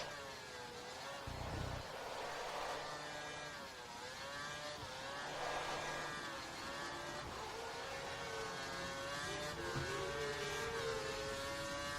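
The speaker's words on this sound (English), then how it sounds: "Being so delicate with the throttle and it's still just revving the engine and just spinning out the wheels" An F1 car engine in the F1 2013 video game revs high and wavering on a wet track in China as the wheels spin, the pitch climbing and dipping repeatedly in a continuous screaming whine.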